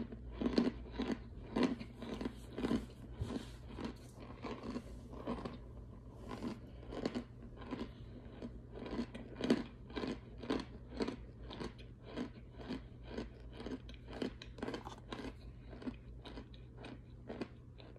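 Crunchy chewing and biting during a pho meal, close to the mic, a steady run of sharp crisp bites and mastication sounds repeating roughly every half second over a low steady hum, with no talking.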